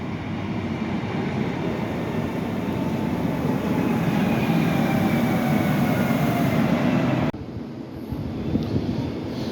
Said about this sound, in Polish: Jedzie EPZ 9 z Przemyśla do Wiednia, Porta Morawica, a tam jedą aż dwa pociągi.